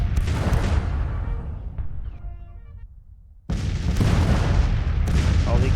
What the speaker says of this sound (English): Just gonna let my cannons continue to do the work over here.